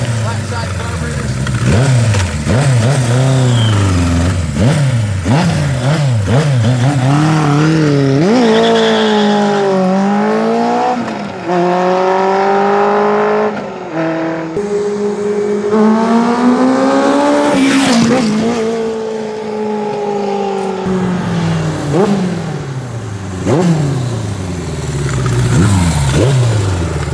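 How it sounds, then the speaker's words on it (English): A Kawasaki KZ1000 Street Fighter motorcycle with a ZRX 1100 front end, ZRX swing arm and flat-side carburetors revs hard and loud up close, the engine pitch repeatedly climbing and dropping over the whole stretch. "This is a KZ1000 Street Fighter Kawasaki."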